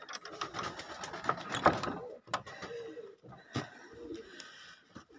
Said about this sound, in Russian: Голуби наши, голуби.